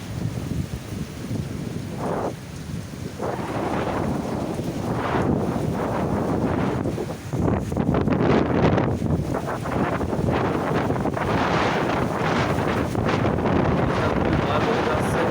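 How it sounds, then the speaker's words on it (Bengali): Strong cyclone wind roars and buffets the microphone in continuous loud gusts, swelling and easing over about fifteen seconds, with a voice speaking at times beneath it. "এই যে আপনারা বাতাসের শব্দ শুনতে পারতেছেন।"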